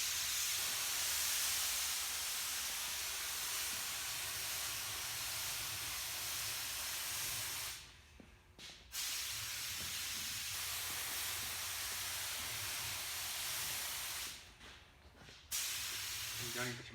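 A spray gun applying primer hisses steadily and loudly in a workshop, with two brief pauses in the spraying.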